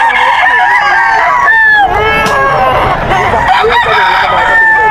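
Several roosters crow repeatedly and loudly at a gamefowl sale in Bocaue, Bulacan, where about 25 birds are on hand, with overlapping calls and some background voices.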